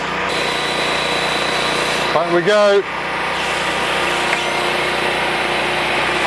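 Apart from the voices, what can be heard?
engine revving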